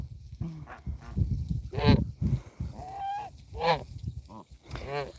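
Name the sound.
pet goose (gander) honking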